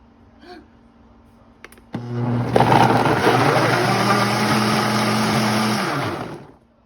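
A small air fryer set to medium starts after a couple of faint clicks. Its fan whirs loud and steady with a humming tone for about four seconds, then winds down and stops.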